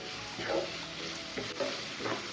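Sliced onions with salt sauté in a pan, giving a soft continuous sizzle with several rhythmic stirring scrapes, close and fairly quiet.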